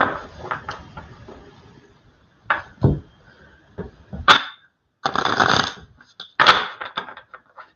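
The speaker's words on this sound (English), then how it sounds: "I'm going to pull this down a little so you can see me shuffling" Tarot cards being shuffled by hand, uneven bursts of riffling and flicking with short pauses, close by, no talking.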